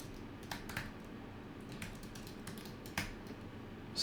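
Someone types a drive name on a computer keyboard, giving a few sparse, soft key taps over a steady low room hum, close by with no talking.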